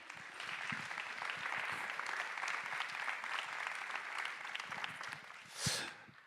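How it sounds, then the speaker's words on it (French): An audience at a public forum applauds a speaker: steady, dense clapping fills the room for several seconds, swelling briefly near the end before fading. "Oui, on peut l'applaudir."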